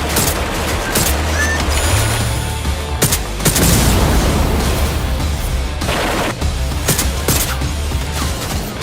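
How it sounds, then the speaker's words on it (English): Nail gun firing in the video game Watch Dogs Legion, loud repeated sharp bursts of shots and booming impacts over dense action noise, with no break in the chaos. "who needs a regular old gun when you have a bloody nail gun?"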